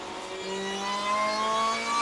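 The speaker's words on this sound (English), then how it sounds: "Building this exit speed up now, up to fourth gear." A Lotus race car engine at Spa climbs through the gears, a loud, steady rising drone with pitch sweeping upward, heard close from onboard with no voices.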